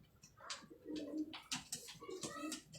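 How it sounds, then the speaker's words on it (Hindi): Ferozpuri pigeons cooing nearby in soft repeated rolling calls, several overlapping phrases, with faint background noise and no clear talking. "कबूतर"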